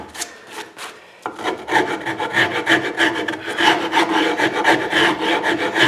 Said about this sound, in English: I got to take another set of rasp on it just to get it down a little more.